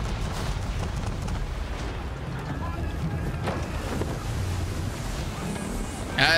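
Wind and rushing water around a sailing ship at sea in the video game Assassin's Creed III, a steady broadband roar with wave wash throughout and a brief louder gust near the end.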